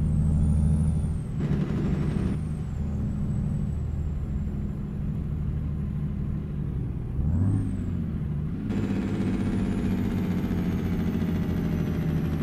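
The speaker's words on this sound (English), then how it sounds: "I love the Jake brakes on this truck" Engine braking on a Ford LTL 9000 truck in American Truck Simulator: a loud, steady low rumble with a deep engine drone that dips and swells across the stretch, with brief hissing air sounds, no talking.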